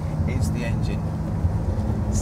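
A Lamborghini Aventador's 6.5-litre V12 rumbles low and steady at a fairly quiet level beneath someone talking close by.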